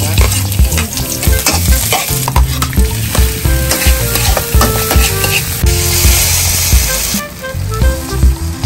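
Fish fries in a pan with a loud, close, continuous sizzle and crackle, broken by clinks and scrapes of stirring.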